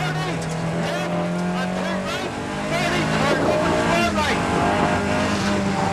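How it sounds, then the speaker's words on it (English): Opel Manta rally car at the 1997 Mourne Rally on a mountain stage, its engine close and loud, revving hard and rising and falling in pitch through quick gear changes. "their glorious-sounding Manta races on to 5th place and 2nd in Class 12"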